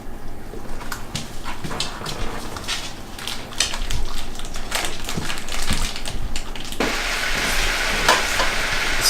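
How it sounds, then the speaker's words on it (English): Ground venison browning in a skillet, crackling and sizzling with scattered pops and scraping stirs, growing louder and denser about halfway through, close up with no talk. "So now we got the meat browning here."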